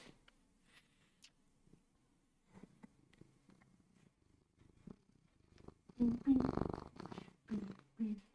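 A pet cat purrs close to the microphone indoors, with a soft rumble building near the end among light rustling and a few quiet clicks.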